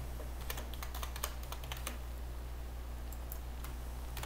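Keys clatter on a computer keyboard as a folder name is typed, a quick irregular run of clicks over a steady low background hum, with no talking.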